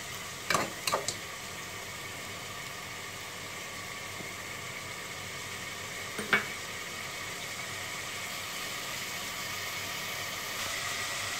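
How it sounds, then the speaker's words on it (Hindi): Ginger garlic paste fries in a pot for beef curry, giving a steady, even sizzle all the way through. A few clattering stirs break through near the start and again partway in. "ये अदरक लहसुन भी इसमें अच्छे से हमने भून लिया है"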